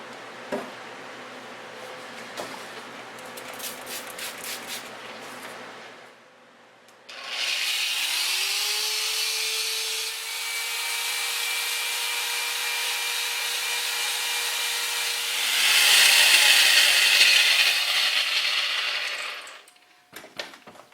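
Geode being polished with 100 grit abrasive: a few light scraping strokes, then a loud, steady power-tool whir with continuous grinding and rubbing that rises near the end and stops abruptly, close by and without talk.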